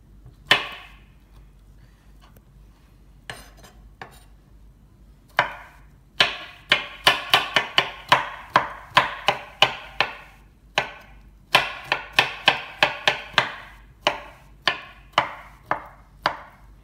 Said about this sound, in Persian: خب حالا برای هویجمونم ببینید، من چند تاشو خورد کنم براتون